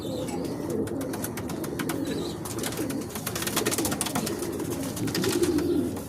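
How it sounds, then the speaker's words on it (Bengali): Several pigeons of one bloodline cooing in a loft, soft low repeated coos layered together with sharp clicks and flutters over a steady background, no talking. "সব একই কোয়ালিটি পায়রা"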